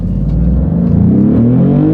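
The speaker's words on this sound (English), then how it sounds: "let's see how quickly we can get our new 2024 GranTurismo here up to speed" A 2024 Maserati GranTurismo accelerates hard from a launch, its engine a loud, steady rumble with rising tones as it builds speed.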